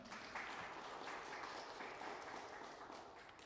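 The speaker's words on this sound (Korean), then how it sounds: "군포시 정비사업에 관해서 강의를 해주신 노수일 강사님께 큰 박수 부탁드리겠습니다" An audience applauds after a lecture on Gunpo city redevelopment projects, producing a soft, distant, continuous patter of clapping that stays even and fades slightly at the end.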